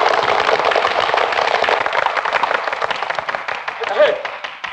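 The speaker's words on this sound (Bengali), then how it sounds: "এবার হাততালি।" A small group gives a burst of hand clapping to send off a departing friend, dense applause fading over a few seconds with a voice speaking briefly near the end.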